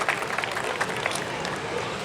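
An audience claps in a steady, dense patter to welcome a guest at the closing ceremony of a science festival in Uttar Pradesh. The sound is continuous and moderately loud for about two seconds, with a faint hint of voices underneath.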